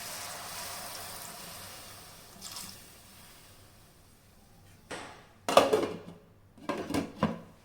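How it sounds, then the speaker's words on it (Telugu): Water is poured into a pan of okra masala curry: a quiet, faint stretch, then several loud, close bursts of splashing and sloshing liquid near the end. "ఇప్పుడు లైట్గా వాటర్ పోసుకొని మూత పెట్టుకుందాం"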